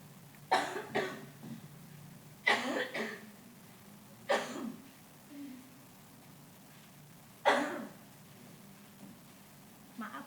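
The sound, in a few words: coughing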